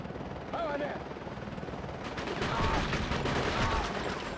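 Gunfire in the Cold Winter video game: dense, continuous rapid shots rumble and crackle throughout, growing louder midway and mixing with other battle noise.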